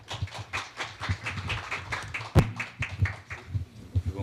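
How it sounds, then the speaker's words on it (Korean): An audience at a Korea University lecture event welcomes a professor with clapping: a moderate group of separate, fairly close hand claps keeps an irregular patter throughout. "박수로 청해 주시기 바랍니다"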